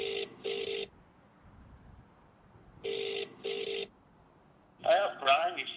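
Phone call being placed: two bursts of touch-tone dialing beeps, a pause, then two more, followed by a voice answering on the line.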